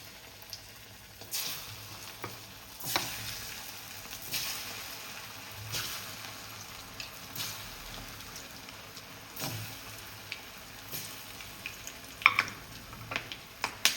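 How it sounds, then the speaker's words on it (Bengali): Khoi bora, Bengali puffed-rice fritters, frying in hot oil with a continuous soft sizzle and scattered crackles, plus occasional utensil taps, fairly quiet and close, with no talking. "তেল তো বেশ গরম হয়ে উঠেছে। এবার আস্তে আস্তে আমি বড়াগুলো ছেড়ে দেবো।"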